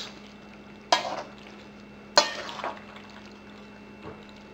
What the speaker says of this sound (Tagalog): hahaluin lang natin ito gently para ma-distribute lang yung mga ingredients